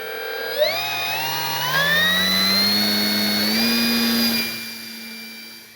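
Electric motor of a Kavan Pulse 2200 V2 RC glider spinning up with a rising whine, holding a steady high-pitched tone close by, then spooling down.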